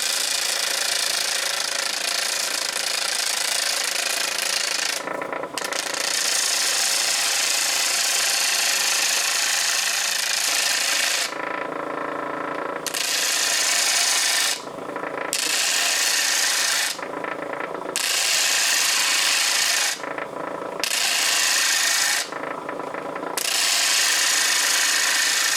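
An All-U-Need flat lap machine grinds a bevel onto a cabochon's edge, giving a loud, steady abrasive rasp interrupted by several brief pauses as the stone is lifted away.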